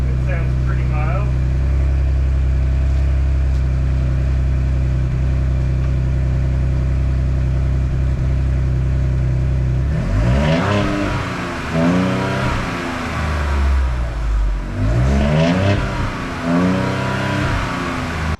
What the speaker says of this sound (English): It's a 6-cylinder EcoBoost. That's what they sound like.